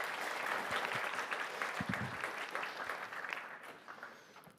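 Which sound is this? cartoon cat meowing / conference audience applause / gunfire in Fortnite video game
conference audience applause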